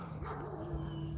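A dog that has just had a professional bath gives soft whines and yips, close but not loud, over a steady background hum with faint voices nearby.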